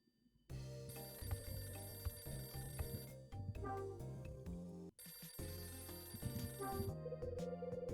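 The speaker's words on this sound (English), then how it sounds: "Phone's ringing." A telephone rings in the video game Hotel Dusk: Room 215 with a bright, rapid electronic bell trill that repeats in sustained bursts, breaks briefly midway, then resumes loudly and alone.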